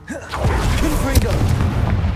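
Booming blast of a Confringo fire spell in a wizard video game, a rolling, rumbling explosion lasting about two seconds, with a voice talking over it.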